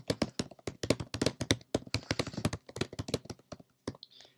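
Rapid, heavy-handed typing on a computer keyboard, a dense run of sharp clacks with uneven rhythm, close and fairly loud, ending with a brief pause.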